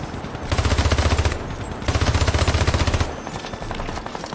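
Robot enemies fire guns in a Toy Story video game, two loud rapid bursts of automatic fire, each lasting about a second, separated by a short pause and followed by quieter background game noise.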